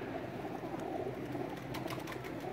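A pigeon coos close by after landing, low soft warbling notes over an even background murmur, with a few faint flutters or taps toward the end.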